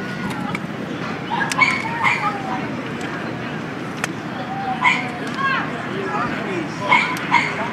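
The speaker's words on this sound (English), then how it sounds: "That's one of the top Malinois in the country." A Malinois dog yipping and barking, short high sharp cries and whimpers in scattered bursts over a noisy background, with people talking throughout.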